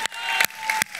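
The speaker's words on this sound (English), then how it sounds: "Okay, enough clapping." Church audience applause for Josh, a short burst of clapping in three quick surges, moderately loud and close, with no talk over it.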